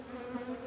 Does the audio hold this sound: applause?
no